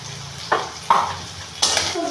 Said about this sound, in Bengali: সবজিগুলো ভালোভাবে নেড়ে নিলাম।